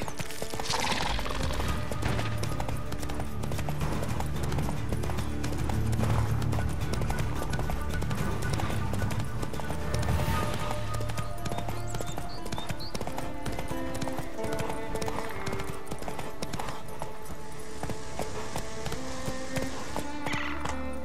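Horse galloping in The Witcher 3 video game, a steady rhythmic clip-clop of hooves running close and continuous over game music and ambience, with an occasional snort.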